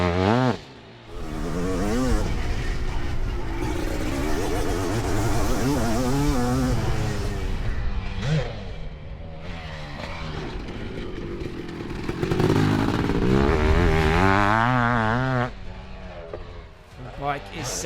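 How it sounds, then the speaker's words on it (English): A Kawasaki KX 500 two-stroke motocross bike laps a track, its engine rising and falling in a buzzing rev as it accelerates and shifts, with a voice talking over much of it. "The bike is sounding sweet out there, that's for sure."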